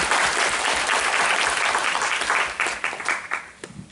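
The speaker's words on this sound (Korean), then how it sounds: "우리 교수님 감사의 박수를 한번 보냅시다." Congregation at a joint Thanksgiving worship service applauding a professor, with dense clapping that thins out and breaks into scattered separate claps near the end.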